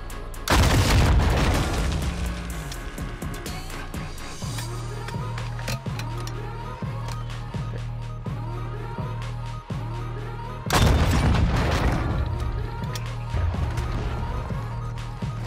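Strela rocket launcher explosions in a video game give two heavy booms about ten seconds apart, loud and close, with steady rhythmic firing thumps and battle noise between them.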